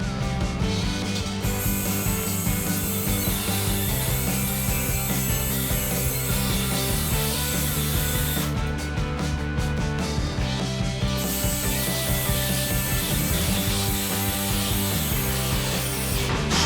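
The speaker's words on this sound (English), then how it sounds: "Those nuts won't move right there, so it's getting cut right there." A saw cuts through an old trailer hitch mount under a GMC truck with continuous, loud, rhythmic rasping strokes, briefly pausing midway before resuming.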